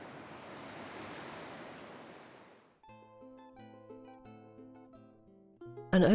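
Ocean waves wash onto a Galapagos beach, a broad, loud rush of surf for a few seconds that fades out and gives way to music.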